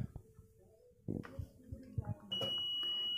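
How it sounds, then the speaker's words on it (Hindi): Multimeter continuity beep while probing a shorted corded landline phone circuit board: after soft probe clicks and taps, a steady high electronic tone comes in and holds to the end, clear and close. "ये देखिए फ्रेंड ये बीप कर रहा है बी आर वन ये बीप नहीं करना चाहिए था"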